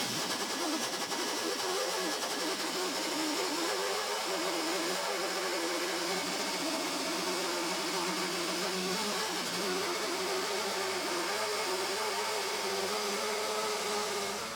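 Wire wheel stripping paint from a 1972 Triumph GT6, run at low RPM: a loud, continuous high whirring whine with a gritty, buzzing edge, steady and close throughout, with no talk.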